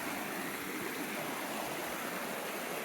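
A dog wading into a stream just before rain, with steady broadband flowing-water noise from the running stream filling the whole stretch, close and continuous, no voices.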